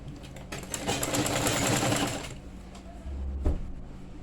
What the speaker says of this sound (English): To me, sewing with your machine is faster, it's neater, it's easier, less stressful compared to sewing by hand.